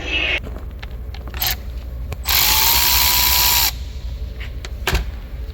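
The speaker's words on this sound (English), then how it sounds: "we're gonna remove this 10mm bolt here. That's the cover for the AC port." A power tool or impact driver backs out a 10mm bolt on the AC port cover of a 2016-2019 Chevy Cruze, with short clicks, then a loud sustained whir for about a second, then scattered clicks.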